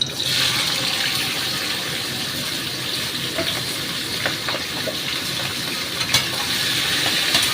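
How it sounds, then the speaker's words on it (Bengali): Ivy gourds sizzle in hot oil in a pan, a steady broadband hiss with scattered small crackles and pops throughout, no talking. "মনে হয় তেল গরম হয়ে গেছে। একটা কুঁদরুল দিয়ে দেখছি, হ্যাঁ গরম হয়ে গেছে। আমি কুঁদরুলগুলো ছেড়ে দিলাম।"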